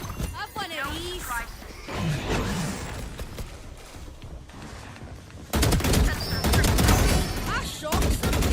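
Gunfire in a Valorant match at a VCT Santiago pro esports event: sharp bursts and rapid volleys of shots, loudest toward the end, heard under excited voices talking throughout.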